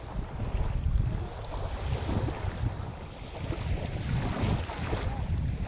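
Sea waves roll in at Balete Beach in Pagbilao, Quezon Province, in rough weather, a low rumbling wash that swells and eases under heavy wind buffeting the microphone, with no talking.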